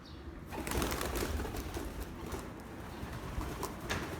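Hünkar pigeons coo in low, throaty murmurs against a busy background of rustling and bird noise, fairly close and steady throughout.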